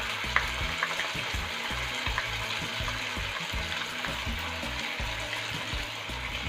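Golden-brown paneer fries with red chili sauce, giving a steady loud sizzle and bubbling with occasional soft stirring scrapes, close and continuous, with no voices.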